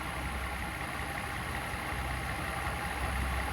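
A Mercedes S600 V12 idles warm with a slight miss, a steady low rumble and hum that runs on evenly at close range with no voices.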